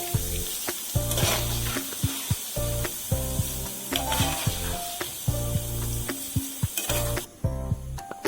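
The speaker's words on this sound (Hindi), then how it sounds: "3 से 4 मिनट हो गए इसे फ्राई करते हुए।" Chena (paneer) pieces for Sita Bhog deep-fry in hot oil, giving a steady, close sizzle that runs under rhythmic background music throughout.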